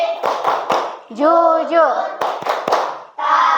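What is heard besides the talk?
group rhythmic hand clapping chant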